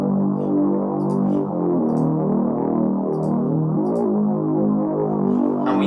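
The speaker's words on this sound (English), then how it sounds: "And you can hear something like a dark saw-toothed bass" A dark, distorted sawtooth synth bass drones continuously, its gritty tone slowly sweeping, with faint high ticks in the background and no voices.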